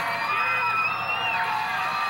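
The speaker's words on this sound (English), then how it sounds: "Everyone in this crowd on their feet." A packed crowd on its feet at a live sporting event, roaring and cheering in a loud, sustained wash of voices with whoops and shouts that holds steady from start to finish.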